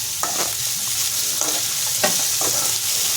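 Vegetables and onions with salt fry in a pan for shavige uppittu, a steady close sizzle broken by several scraping stirs of a spatula against the pan.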